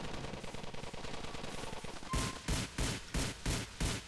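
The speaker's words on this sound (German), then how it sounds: "Alter, da schießt jemand." Gunfire in the video game GTA IV: a rapid rattle of shots early on, then about six loud, evenly spaced bursts, sharp and close.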